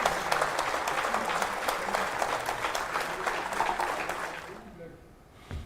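Crowd applause after the Chandrayaan-3 Moon mission launch at Satish Dhawan Space Centre, a loud, sustained roar of clapping with faint voices mixed in, cutting off sharply near the end.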